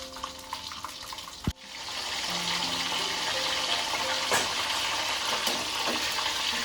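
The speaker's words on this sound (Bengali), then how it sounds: "আমি পটলগুলোকে এইভাবে আস্তে আস্তে ভেজে তুলে নেব" Pointed gourd (potol) pieces fry in a pan with a steady, fairly loud hissing sizzle, broken by a sharp knock and a few faint clinks.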